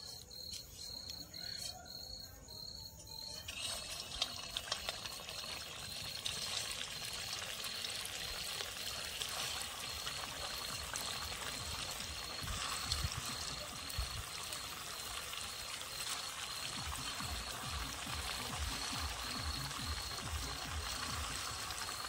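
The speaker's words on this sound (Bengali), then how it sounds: "এখন এক এক করে তেলে ছেড়ে দেব।" Semolina snacks frying in hot oil in a wok give a steady, dense sizzle and crackle that fills the whole stretch and grows slightly busier after the first few seconds, with no voices.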